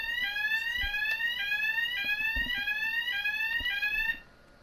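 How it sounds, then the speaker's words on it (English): A fire alarm sounding during a routine test at an army site, a loud repeating electronic sweep that rises in pitch over and over in a steady cycle before cutting off abruptly near the end. "there's a fire alarm"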